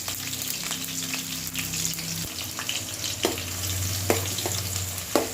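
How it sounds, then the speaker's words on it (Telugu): Onion and green chillies frying in hot oil for a fish curry, a continuous close sizzle broken by sharp scraping stirs and clinks against the pan, with a low hum underneath. "ఆయిల్ హీట్ అయ్యాక చూసుకొని ఉల్లిపాయ, పచ్చిమిరపకాయ వేసుకొని తిప్పుకోవాలండి"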